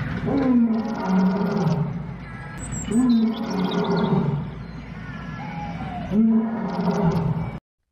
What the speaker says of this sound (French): un son différent sortit, un rugissement profond et puissant.